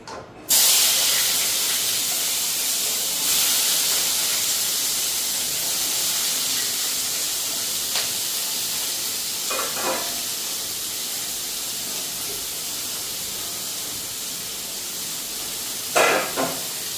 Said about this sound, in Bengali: এদিকে এখন ভাজাটা আগে বসাই দিয়ে নিই, তিতা করলা, আলু, বেগুন সব কিছু মিলাইয়া